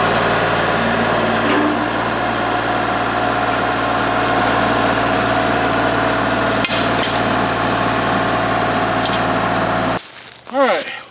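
A Kubota L3301 HST diesel tractor engine runs at a steady, loud, close rumble while pulling out an old fence, with a couple of clanks partway through and the engine cutting off near the end.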